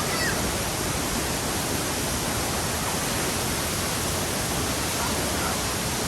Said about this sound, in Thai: นี้เราอยู่ที่น้ำตกห้วยหลวงนะครับ